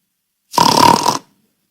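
A preacher imitates snoring with a single loud, rasping snort of under a second, close to the microphone and surrounded by silence.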